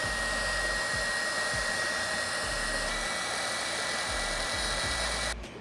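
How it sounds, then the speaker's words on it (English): A heat gun blows a continuous loud, steady whir close up while shrinking heat shrink tubing over the wiring of a Harley-Davidson Dyna, cutting off at the very end. "I'm going to heat shrink this stuff down"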